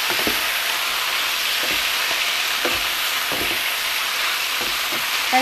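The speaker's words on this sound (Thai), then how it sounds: "ใส่เห็ดลงไปเลย" Mushrooms stir-fried with pork belly and ginger in a hot pan, a loud continuous sizzle and hiss with a steady rhythm of spatula scrapes and stirs, close up with no talking.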